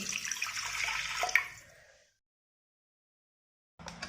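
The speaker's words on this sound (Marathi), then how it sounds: "इथे मी कुकर घेतलेला आहे त्यामध्ये आता आपल्याला अर्धा ग्लास खाली पाणी ओतायचं आहे" Water poured from a glass into a pressure cooker holding lentils gives a close splashing pour for about two seconds, then silence, followed by a brief resumed trickle at the end.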